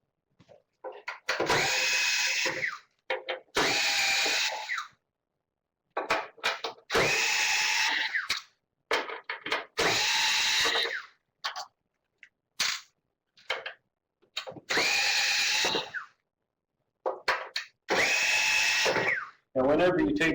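Power tool driving out screws from the reagent tray of an Aerospray Gram Series 2 machine, sharp close whirring bursts repeated about seven times with short silent gaps between, intermittent talk alongside.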